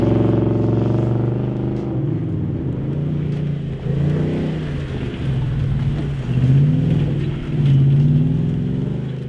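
A 2015-2019 Ford F150 truck with a 5.0L V8 and MBRP 3-inch aluminized single-exit cat-back exhaust accelerating, a deep steady growl that rises and swells in pitch, loud and close, with no talking.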